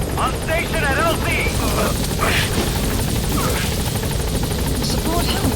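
A Metal Gear Solid V support helicopter keeps up a steady, loud rotor drone in a video game, with radio voices and game effects over it.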